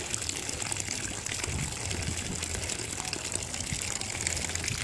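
Water poured from a container onto a tree while plants are watered outdoors, a steady, fairly loud gushing splash that runs continuously with no talking.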